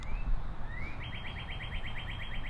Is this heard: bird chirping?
yes